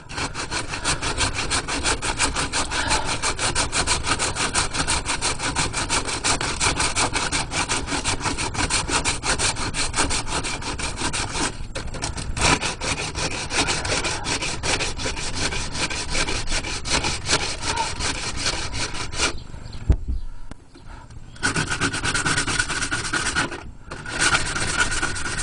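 Coarse 40 grit sandpaper is worked over body filler on a helmet shell, giving a fast, rhythmic rasping scrub of close, loud back-and-forth strokes that run nearly continuously, with brief pauses near the end.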